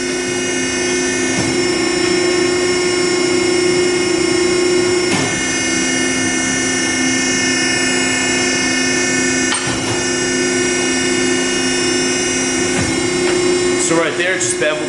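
A Piranha hydraulic ironworker in a shop bevels the edge of a steel plate, a loud constant mechanical drone with a steady hum, broken by a few sharp clunks and a harsh metallic grinding near the end.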